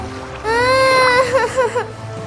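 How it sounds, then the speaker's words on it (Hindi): A cat crying while drowning in water beside a boat: a drawn-out, wavering wail that starts abruptly, then breaks into shorter pulsing cries before fading. "अरे ये बिल्ली की रोने की आवाज कहाँ से आ रही है?"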